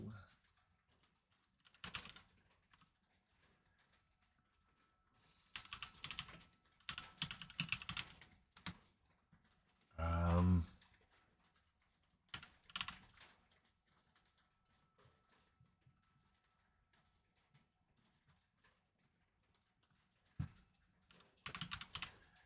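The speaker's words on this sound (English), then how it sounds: "You just hear some keystrokes here." Computer keyboard keystrokes in scattered bursts of clicking typing, close and fairly quiet, with a loud thump partway through and a voice speaking in between.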